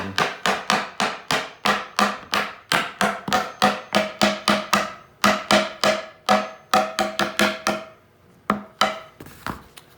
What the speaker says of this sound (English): I just use a regular hammer and tap it in.